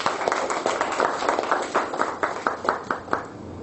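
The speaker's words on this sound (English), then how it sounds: "So let's applaud for him once again." An audience at a Toastmasters club meeting claps for a speaker, giving a steady run of hand claps that holds for a few seconds and grows sharper and more distinct toward the end.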